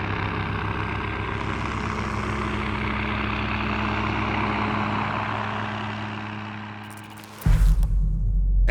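MH-6 Little Bird light helicopter, a 1960s-era design, droning loudly and steadily with dense rotor and engine noise, then a sudden closer, boomier burst of rotor wash near the end.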